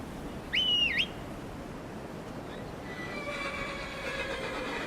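In Skyrim, a whistle is followed by a horse's neigh: a short, bright rising-and-falling whinny near the start over steady outdoor ambience, with faint wind-like noise later.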